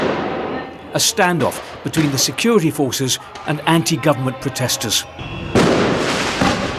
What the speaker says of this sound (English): Protesters firing fireworks and the riot police responding with tear gas